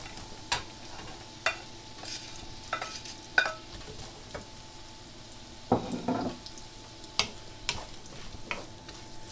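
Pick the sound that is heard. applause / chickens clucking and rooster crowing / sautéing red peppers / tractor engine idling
sautéing red peppers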